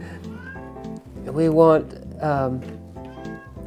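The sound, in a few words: cat meowing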